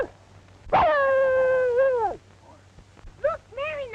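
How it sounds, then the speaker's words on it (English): A little dog, thought to be a police dog, lets out one long drawn-out whining cry followed by a couple of shorter yelps, close and clear in a 1936 black-and-white film soundtrack. "Look, Mary, a little dog. I bet he's a police dog."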